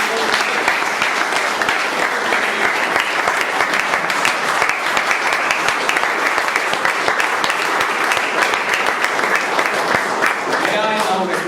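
A large audience at a Bangalore Toastmasters Club event applauds steadily, a dense and loud wash of clapping that holds for the whole stretch without letup.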